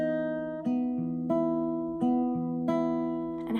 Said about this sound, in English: you're going to be playing a little plucking pattern that sounds like this.